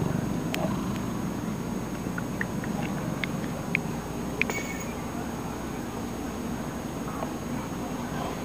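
A sleeping cat purring softly and steadily in a quiet room, a faint low continuous rumble with a few small clicks, no talking.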